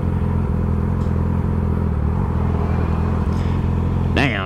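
A motorcycle engine heard while riding, a loud, steady close-up rumble that holds an even throb and rises briefly in revs near the end.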